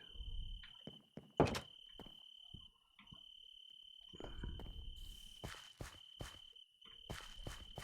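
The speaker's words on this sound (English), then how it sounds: "The crickets let you know that it's nighttime outside" Night crickets chirp in a steady high drone throughout a video game ambience mod scene, with soft footsteps, thumps and a door sound in the foreground.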